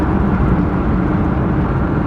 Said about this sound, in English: I jab on the brakes here a little bit.